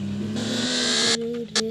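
A car engine revs hard in a car dealership simulator video game, a steady loud whirring drone that cuts off abruptly near the end, followed by a brief final burst.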